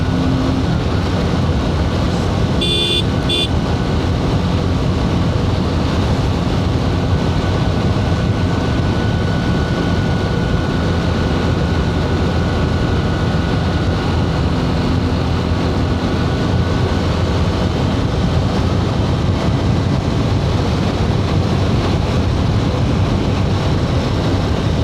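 Honda SP 125 motorcycles riding and overtaking on a hill road give a steady, loud roar of engine and wind rushing past, unbroken for the whole stretch, with no talk.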